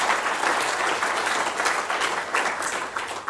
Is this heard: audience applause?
yes